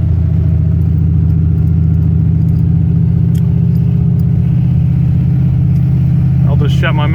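A car cruises through the Iowa State University campus, its engine a steady, loud hum from inside the cabin, with a brief rattle near the end.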